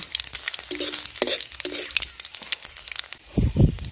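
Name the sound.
whole garam masala and cumin tempering sizzling, being stirred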